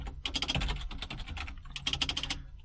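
Quick, irregular keystrokes on a computer keyboard clatter close and clear in two bursts separated by a brief pause, with no talking.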